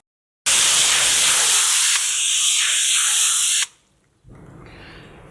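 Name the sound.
garden hose nozzle spraying on shower setting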